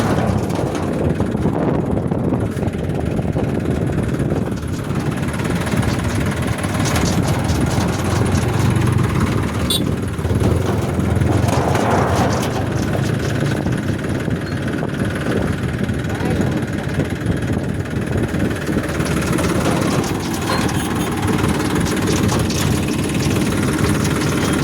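A tractor's steady, rumbling diesel engine runs continuously at close range with wind buffeting the microphone, and a voice talks over it now and then.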